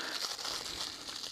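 A 2013 MRE packet made of plastic or foil is torn open in one brief, close burst of crinkling and ripping.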